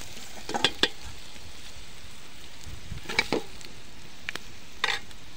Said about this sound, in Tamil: உப்பு போட்டு கிண்டிட்டு இருக்க.